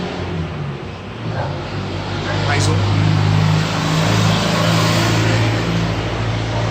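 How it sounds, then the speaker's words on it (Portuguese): A truck engine passing on the street outside, a steady low drone that swells and lingers while a person speaks briefly over it. "caminhões que passam na rua enquanto eu estou gravando"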